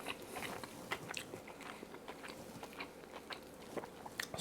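Crisp crunching bites and chewing of a fried chicken tender dipped in honey mustard, close to the microphone, a series of crackly crunches repeating at an uneven pace.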